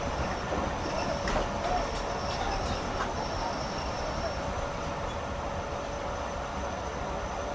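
Hazara Express passenger train (12 Down, Karachi service) rolling on rails, a steady loud rumble of wheels with faint squeals and clatter, constant throughout and heard from inside or close by, with a little background talk.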